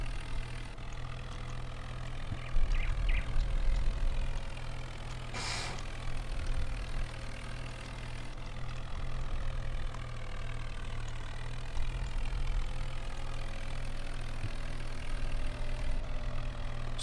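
Tractor engine in Farming Simulator 19 with an Indian mod, idling and running steadily throughout with a low continuous hum and a brief louder burst partway through, no talking.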